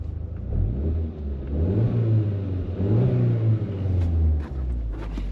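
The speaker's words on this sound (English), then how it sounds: "She makes turbo noises" A 2002 Audi TT 1.8T Quattro's 1.8-litre turbocharged engine rumbles steadily and revs up twice in rising surges, loud and close, with a faint hiss of induction noise on top.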